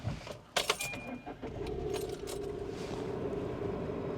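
An old car, a jalopy, is started after a brief jangle of keys at the start, its engine then settling into a steady, continuous idle hum close by.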